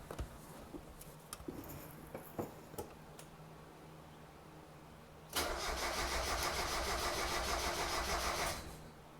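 Mazda Miata NA engine cranking with a few uneven sputters before catching and running roughly for a few seconds with a rumbling, shaking idle, heard close up with no talking.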